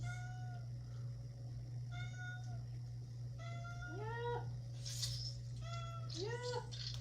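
A house cat meows repeatedly in a kitchen, a series of clear rising-falling calls spaced across several seconds over a steady low hum, growing more insistent toward the end.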